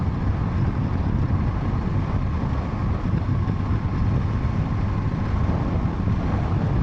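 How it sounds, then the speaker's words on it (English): Steady, loud wind roar buffets the microphone of a Zontes T310-T motorcycle as it rides on a gusty day, a dense continuous rush mixed with engine and road noise, with no speech. "Bit of a gust there as I went past that roadway."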